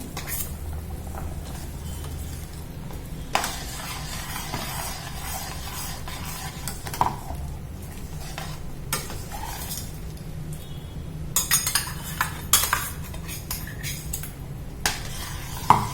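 A spoon scrapes and clinks around inside a metal pot while ground masala is stirred into thick green gram sambar, with irregular knocks and soft scraping over a low background hum.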